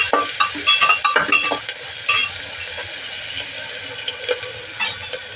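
Paneer gravy ingredients frying in a pan with steady sizzling and hissing, a spoon scraping and clattering in quick bursts early on, then a settled sizzle with occasional taps, close and fairly loud.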